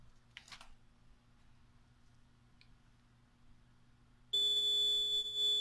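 An RTK P725 annunciator sounds its alarm during a system test, a loud, steady electronic tone that starts abruptly after a few quiet seconds with faint clicks and keeps going to the end.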